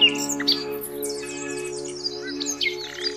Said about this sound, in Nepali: जाडो अवधिभर बसाइ सरेर आएका चराहरू आरक्षमा रमाउँछन्।